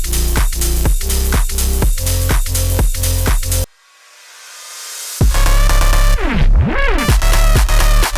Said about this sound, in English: And yeah, that's pretty much the bass line.